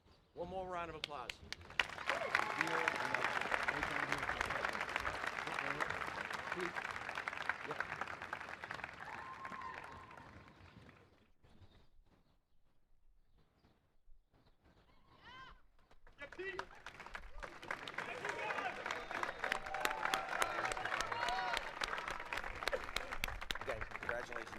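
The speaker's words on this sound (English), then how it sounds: "One more round of applause." Applause from the audience at a May commencement ceremony, a broad clapping crowd that swells, dips to a quieter lull midway, then builds again, with a voice speaking over parts of it.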